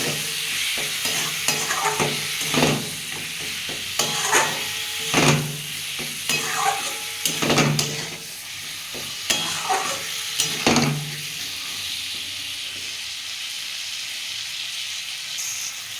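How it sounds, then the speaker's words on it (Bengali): Tomato chutney made with raw and ripe tomatoes and a little cumin is stir-fried in a pan, giving a steady sizzle and hiss with repeated scraping strokes of a spatula, close and fairly loud, with no talking. "একটু সামান্য জিরে হাফ চামচেরও কম দিয়ে এটা ভালো করে বন্ধুরা কষে নিতে হবে"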